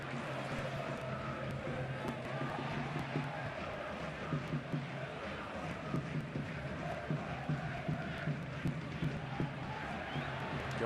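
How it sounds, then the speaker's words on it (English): A football stadium crowd at a Real Zaragoza versus Deportivo de La Coruña match keeps up a steady, distant roar and chant, with a commentator talking over it. "the crowd getting themselves involved now"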